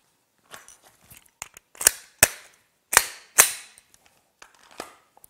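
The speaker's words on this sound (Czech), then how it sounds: "Samozřejmě nabijeme zbraň směrem k terčům." Handgun being loaded and readied at a shooting range ahead of a drill, a series of sharp metallic clicks and snaps, a few louder clacks among lighter handling taps, close and with no talk.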